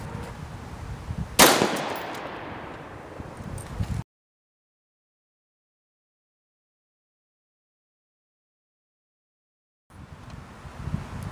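A single sharp rifle crack from a .223 round firing Z-max ammunition into a car door outdoors, loud against steady wind noise, followed by a long stretch of dead silence before the wind resumes.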